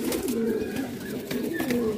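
A red Shirazi pigeon coos in low, throaty, rolling phrases repeated steadily nearby, with faint background rustling and no talk.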